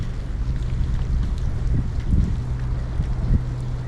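Steady wind rush buffeting the microphone at Tamsui Fishing Port, Taiwan, in rain, with a low rumble and scattered splashy gusts, continuous and fairly loud with no talking.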